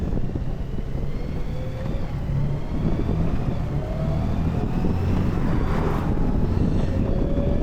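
A 2023 Honda Goldwing motorcycle pulls away and cruises, its smooth engine hum blending with steady wind rush at the microphone, no voices.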